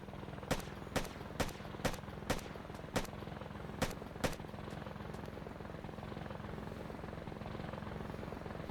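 An Apache helicopter in Arma: Cold War Assault fires at troops, with about eight evenly spaced sharp shots over a steady rotor drone that continues alone afterward.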